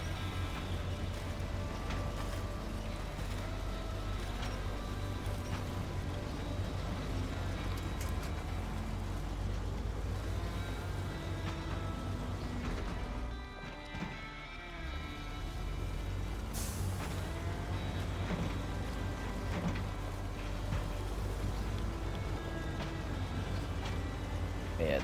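A truck engine in the SnowRunner video game drones continuously at steady load for the whole stretch, dipping briefly midway, with someone talking over it.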